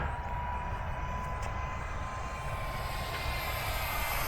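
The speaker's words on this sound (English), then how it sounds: "Full throttle right now, nice and level flights." Xfly F-22 twin 40mm EDF RC jet flying at full throttle, a steady high-pitched ducted-fan whine with broad airy rush, constant and moderately loud with no break.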